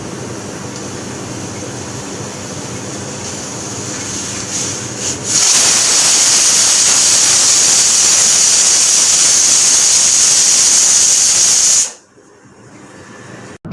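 A pressure cooker cooking beef lets off a loud, continuous, close steam hiss that runs for several seconds, then cuts off abruptly, leaving only a faint low background.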